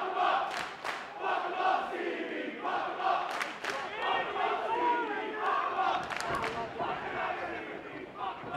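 A wrestling arena crowd at a House of Honour show, loud massed chanting and cheering that swells and pulses continuously, voices blending into a dense roar.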